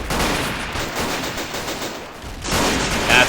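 Dense, continuous automatic fire from a WW1 machine gun in the trench warfare game Battle of Empires 1914-1918, a steady rattling burst lasting several seconds with no speech over it.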